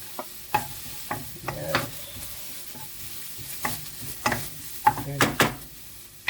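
Garlic and ginger sauté in a pan for garlic butter shrimp, with a soft sizzle broken by irregular scrapes and clacks of a spatula as a person speaks briefly.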